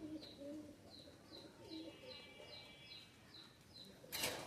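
Pigeons kept as high-flying racing birds coo in a quiet, repeated series of soft calls, with a sudden brief rustle or wing flap near the end.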